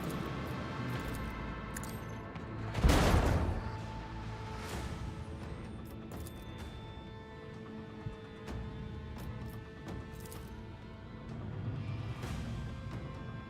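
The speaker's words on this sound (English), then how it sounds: "Let the macro cannons sing their twisted song." Macro cannon barrage from a warship in the Warhammer 40,000 Rogue Trader video game, a single heavy booming blast early on, then lingering tonal rumble and scattered smaller impacts under game music.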